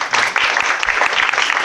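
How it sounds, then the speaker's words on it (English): A brief round of applause from an audience at an after-work tech talk, a dense crowd of clapping hands at fairly close range throughout the short stretch, with no speech. "So quick round of applause for Annie."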